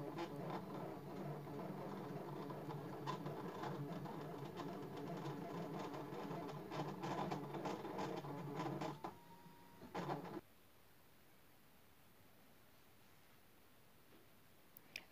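A Brother ScanNCut cutting machine cuts foil motifs with a steady, buzzing mechanical whir and rapid clicking for about ten seconds. It then stops abruptly and leaves faint room hiss.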